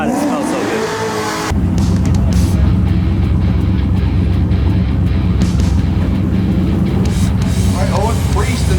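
A Dodge Hellcat fitted with a parachute at the back idles with a deep, heavy, loud rumble close by. A brief revving burst comes first, and people talk faintly underneath.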